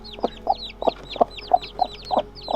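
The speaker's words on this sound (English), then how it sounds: "That is the meanest birdie hen in the world" A mean mother hen, newly hatched chicks nearby, clucks in a steady rhythm of about eight short, close calls, with faint higher peeps between them.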